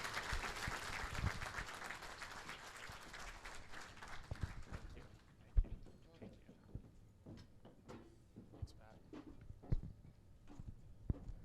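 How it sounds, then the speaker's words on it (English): Scattered applause at an animal hospital association's anniversary awards reception fades within a few seconds, leaving sparse claps, knocks and room noise. "Give a round of applause for our panelists."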